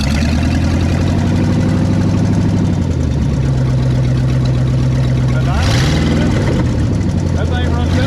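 A 1959 Ford Galaxie Fairlane 500 with a 352 V8 and a two-barrel carburetor, started for the first time in years, running loud and close with a steady throbbing idle that dips and revs up midway while people talk over it.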